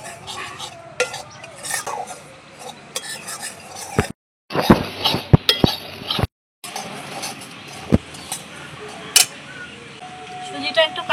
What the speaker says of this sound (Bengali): কড়াইতে দিয়ে দেব সুজি, একটুখানি ভেজে নেব যাতে সুজির কাঁচা গন্ধটা চলে যায়